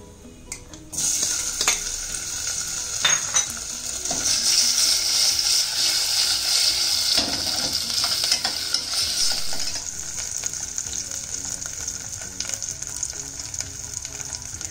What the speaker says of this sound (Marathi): आता घालूया त्याच्यामध्ये सर्वप्रथम बटाटे